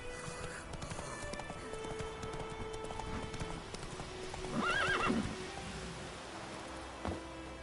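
The Witcher 3 horse Roach clip-clops along, hoofbeats steady and soft under game ambience, with a whinny rising midway and a brief louder thump near the end.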